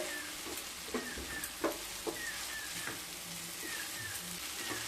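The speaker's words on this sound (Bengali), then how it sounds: "সাবুর সাথে সবজিগুলোকে খুব ভালোভাবে মিশিয়ে নিতে হবে।" Sabu (tapioca pearls) being stirred with vegetables in a hot pan, giving a soft steady sizzle with a few faint scraping stirs and light clinks, fairly quiet and close with no talking.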